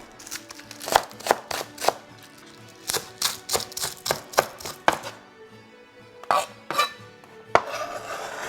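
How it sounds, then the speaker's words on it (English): A knife chops green onions on a cutting board in a series of sharp, close, rhythmic knocks, with short bursts and pauses in between. "Finally chop the green onions."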